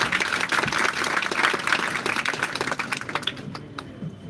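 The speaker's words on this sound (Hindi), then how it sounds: "तालियां बजाओ यार।" Audience applause at an info session, a moderate cluster of quick claps that stays steady for a few seconds and then thins out toward the end.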